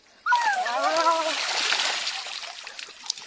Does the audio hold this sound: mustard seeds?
no